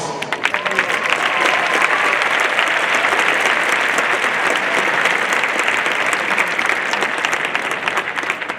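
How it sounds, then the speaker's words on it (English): Sustained, dense applause from a graduation audience at Chief Sealth International High School's 2024 ceremony, loud and steady throughout with no talk over it. "Let's take a moment to recognize them with a round of applause."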